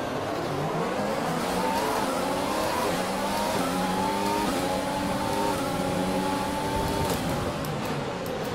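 Formula 1 car engines in the F1 2020 racing game at the start of the Dutch Grand Prix, a dense, steady roar of several engines with rising harmonic whines climbing and holding through the whole stretch, with no talk.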